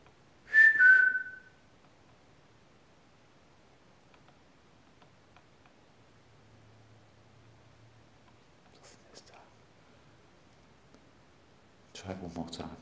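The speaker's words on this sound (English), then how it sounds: "If I whistle, can you please whistle back?" One short, clear human whistle rises out of near silence during a night ghost hunt at The Battlements in SW Cornwall, followed by a long quiet stretch with faint ticks and a rustling burst at the end.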